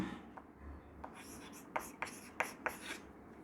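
Chalk or marker strokes on a classroom board during a genetics lesson, a series of short scratchy taps and strokes in quick succession, fairly faint beneath low room noise.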